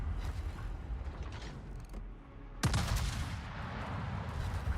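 Heavy 18-inch naval gun salvo in World of Warships, a loud broadband boom about midway through that rolls on into sustained rumble, preceded by quieter distant cannon thuds over a constant low engine and sea drone.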